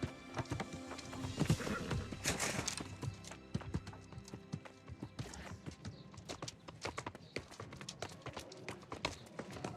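Rapid clip-clop hoofbeats of a horse galloping in the video game New World, brisk and rhythmic, with a whinny near the start and game effects layered over the running.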